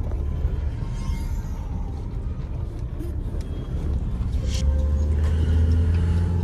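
A Mahindra XUV500 climbs a rough, winding mountain road toward Hamta Pass near Manali, with steady loud engine and road rumble plus wind buffeting inside the cabin, rising a little toward the end.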